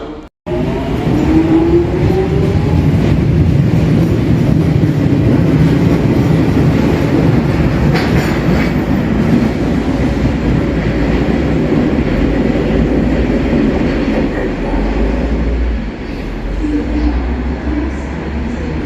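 A London Underground Jubilee line train runs continuously, a steady loud rumble and rail roar with faint whining from the carriage throughout, heard from on board.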